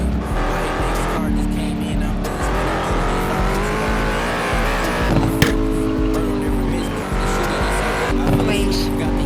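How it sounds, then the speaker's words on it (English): A Dodge Challenger SRT Demon 170 drifting in a racing video game, with a loud sustained engine roar rising and falling through gear shifts and tire squeal over several seconds, close and continuous under steady game sound. "Oh, that's a good drift."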